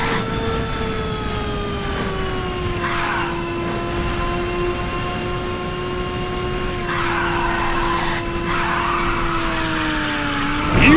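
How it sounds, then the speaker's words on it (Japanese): A car drifting in a racing video game, a long sustained tire squeal with a wavering engine tone and bursts of skid noise, loud and steady throughout, no talking. "見事なドリフトじゃ"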